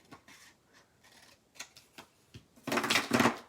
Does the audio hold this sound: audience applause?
no